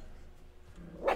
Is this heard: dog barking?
yes